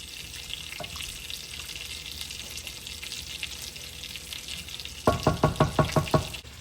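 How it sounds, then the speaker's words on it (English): A pot of salted, peppered mac and cheese simmers with a soft, constant hiss and bubbling. Near the end comes a quick series of rhythmic stirring scrapes, close by. "Let this slowly come to a simmer before I add my cheese."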